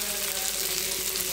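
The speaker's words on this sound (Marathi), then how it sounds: "आता ह्याच्यामध्ये ना हे आता पालक टाकते मी" Fresh spinach dropped into a pan of frying potato pieces for a potato-spinach curry, giving a steady, close sizzle of hot oil that continues evenly throughout.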